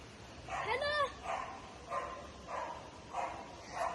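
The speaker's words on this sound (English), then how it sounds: "The dog's coming closer." A dog near a waterfall barking and yipping about five times in a loose rhythm, moderately distant and fairly faint over a steady rushing background.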